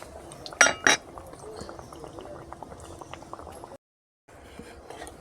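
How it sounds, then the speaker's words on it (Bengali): Luchi stuffed with chhana frying in hot oil bubbles softly and steadily, broken by two sharp clinks of a utensil near the start and a brief silent gap. "গরম তেলের মধ্যে দিয়ে দিচ্ছি।"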